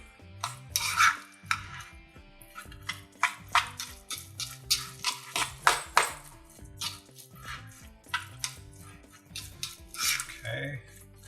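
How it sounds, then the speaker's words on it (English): Spoon stirring California roll filling in a bowl, with irregular clinks and scrapes against the bowl's sides at close range, some louder taps in the middle, and quiet background. "So now we're just gonna mix that all up, just to incorporate."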